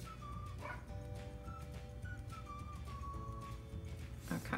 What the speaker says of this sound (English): the dog whining at me is pretty annoying, especially when I'm trying to talk to you guys